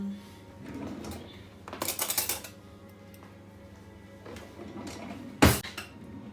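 Tomato pasta being dished up, with pots clanking, a bright clatter of cutlery and a final sharp metallic knock amid quieter kitchen handling.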